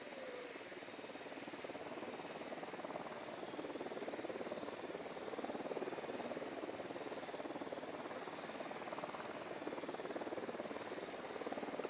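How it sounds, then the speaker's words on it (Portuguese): A surveillance drone hovers in the Ghost Recon Wildlands video game, a steady droning engine whir that holds at an even level throughout, with no talk. "O drone tá no ar."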